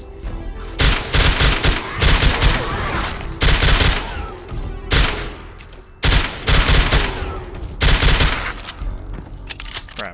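Pistol fire in the video game Ashes: Afterglow, loud close bursts of rapid shots in clusters separated by short pauses, repeating across the stretch.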